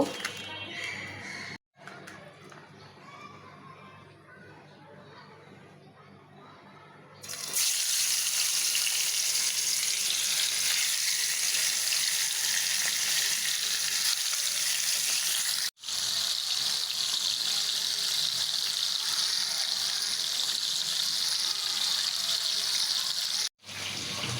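Okra frying in a pan in a home kitchen: after a few quieter seconds, a loud, steady, hissing sizzle takes over and carries on without a break, dipping only for a moment now and then.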